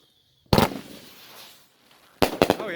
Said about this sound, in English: Evil Undertaker. Alien fireworks.